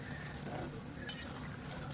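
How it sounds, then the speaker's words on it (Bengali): Urad dal medu vada with rice flour frying in a small amount of oil in a home kitchen, a quiet, steady sizzle with one brief clink partway through. "তেলে ভাজছি কিন্তু তেলটা খুব কম টানে"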